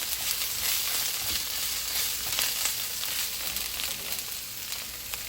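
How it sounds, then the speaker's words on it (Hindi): Spinach stir-frying in a pan, a steady close sizzle with scraping and tossing clicks running throughout, no voices. "इसे स्टिर फ्राई करना है।"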